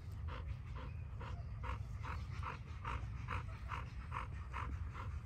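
A year-and-a-half-old dog panting steadily and close by, in quick rhythmic breaths over a constant low background rumble, with no talking.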